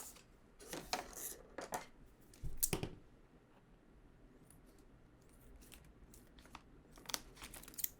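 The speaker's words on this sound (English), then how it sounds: "I'm going to cut the service seal" Snipping through the plastic service seal on a Patek Philippe watch, a few faint close crinkles and clicks of plastic and scissors, with one sharper cut in the middle, in a quiet room.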